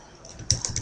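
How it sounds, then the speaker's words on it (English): A few computer keyboard keystrokes typing a short search phrase, three sharp clicks close together near the end after a quiet start. "Let's open Google and I'm going to type in vector people."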